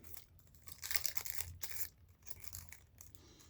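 Rolling paper crinkles and rustles close up as a small joint is rolled, a few seconds of soft, irregular crackling and crumpling with no talking.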